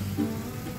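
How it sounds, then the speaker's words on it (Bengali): Warm water hitting a hot pan of chicken cooked with onion-garlic paste, giving a steady hissing, rain-like sizzle that stays close and loud for under a second. "একটু উষ্ণ গরম জল দিয়ে দিলাম"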